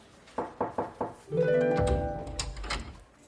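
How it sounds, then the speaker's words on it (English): Four quick knocks rap on an office door, evenly spaced and close, followed by a burst of other room sound and faint voices. "Can I knock?"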